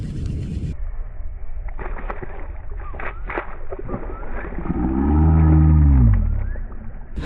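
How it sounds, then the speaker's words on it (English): Electric trolling motor on a fishing kayak hums steadily over lapping water, with a louder, rising whine swelling for a couple of seconds near the end before easing off. "We got the trolling motor now"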